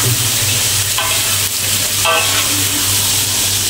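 Beef stir-frying in a pan with ginger, garlic and onions for a soy sauce and black pepper dish, a loud continuous hissing sizzle up close, punctuated by a couple of quick scraping stirs.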